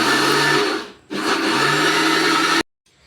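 A mixer grinder churns soaked urad dal and rice into dosa batter, a loud steady motor whir that briefly drops out, resumes, then cuts off abruptly.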